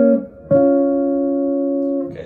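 A guitar dyad from the B section of a jazz tune rings out clearly after a short pluck, sustaining evenly for about a second and a half before fading, alone and close.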